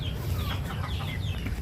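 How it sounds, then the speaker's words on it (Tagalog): Chickens clucking in a farmyard during afternoon feeding, a steady low murmur of several birds with soft, overlapping calls, near and continuous. "Yan, mga manok."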